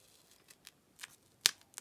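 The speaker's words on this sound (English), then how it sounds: "I'm going to cut a strip of this and then cut this in half" Scissors snip through a strip of mesh-backed diamond painting canvas: several faint, quick cuts followed by two sharper, louder snips at close range.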